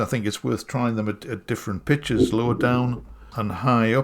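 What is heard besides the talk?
No distinct noise like a dog, phone or traffic.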